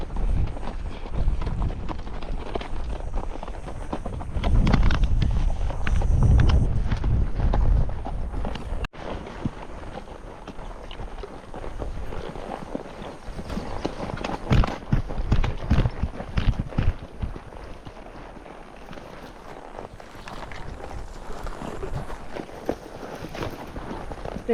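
Hooves clop unevenly on the ground as horses walk through overgrown catclaw near Fairbanks, with wind buffeting the microphone and rustling brush around them.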